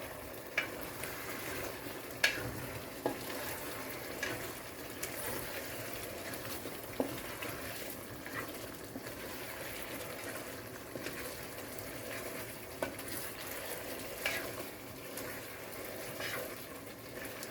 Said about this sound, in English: And mix it nicely